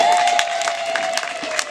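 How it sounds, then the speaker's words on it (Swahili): An audience at a primary school classroom opening ceremony cheers and claps, a short burst of crowd noise with scattered claps under a steady tone. "Situwapigia hata makofi jamani"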